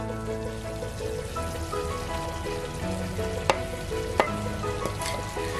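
Chicken cooking in a pan for chicken thoran with grated coconut just added, a steady close sizzle with faint stirring and two sharp clinks of a utensil against the pan.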